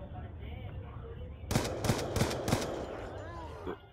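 Four sharp gunshots ring out about a third of a second apart in a first-person shooter Search and Destroy match, loud and punchy over a low game background hum, followed by a quieter tail of ambient noise.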